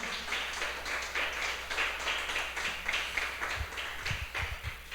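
A church congregation claps hands together as an offering of praise to God, a steady wash of many overlapping claps filling the room with faint low thumps beneath.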